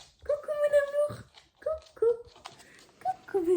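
Kheops, a large pet dog, whimpers in high, drawn-out whines and short yips, several separate cries with brief pauses, close to the listener.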